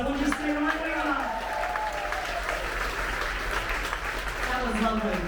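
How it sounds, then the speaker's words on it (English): A crowd on a cruise ship applauds an Army group during a live music show, steady sustained clapping throughout with a voice and some musical tones running underneath. "Oh my goodness, give them a huge round of applause."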